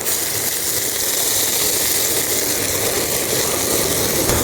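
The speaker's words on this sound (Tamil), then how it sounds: "எண்ணெய் சூடாயிட்டு அப்படியே நம்ம இடித்து வச்சோம் தெரியுமில சின்ன வெங்காயம் பச்சை மிளகா நல்ல மிளகு அப்படியே அதை உள்ளே போட்டுருவோம்" Crushed shallots, green chili and pepper dropped into hot coconut oil give a loud, steady hiss of sizzling that holds evenly throughout, with no voices.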